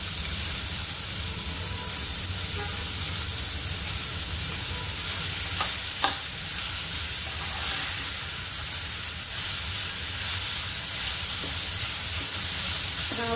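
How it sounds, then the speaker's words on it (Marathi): Onions and tomatoes roast and get stirred in a pan over a wood-fired stove, a steady broad sizzle and hiss with occasional scraping clinks, continuous and close, with no talking. "आता आपण कांदे खूप चांगले भाजून घेऊया, त्यात आपण टमाटर पण टाकूया"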